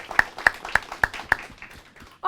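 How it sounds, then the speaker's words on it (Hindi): A short burst of clapping, sharp claps about every quarter second at first and then fading into a softer patter, with a brief loud sound cutting in at the end. "जोरदार तालियां"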